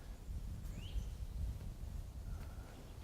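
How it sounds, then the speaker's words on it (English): A bird calls with a few short faint chirps from trees along a wooded suburban footpath in Littleton, Massachusetts, heard over steady low outdoor rumble and rustling. "You hear that bird"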